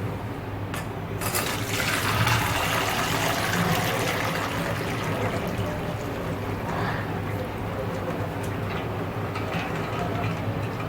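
Water pours steadily through a strainer while draining boiled peanuts for salted khari shing, a continuous splashing rush with a few sharper clinks early on.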